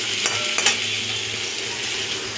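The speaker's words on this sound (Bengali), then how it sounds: "পেঁয়াজটা দিয়ে এটা ভালো করে কষা কষা করে নিয়ে ভেজে নিই।" Onions fry and sizzle in a pan while being stirred, a dense continuous hiss with a few brief spatula scrapes and clinks near the start, close and steady throughout.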